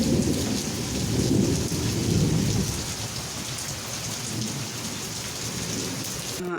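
Heavy rain pouring down in a steady, dense hiss with a low rumbling undertone, loudest at first and then settling to a constant roar throughout.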